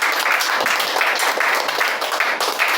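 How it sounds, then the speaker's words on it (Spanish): Applause from a church congregation, a dense, steady wash of many hands clapping close and loud, sustained evenly throughout with no break. "Den un aplauso al Señor."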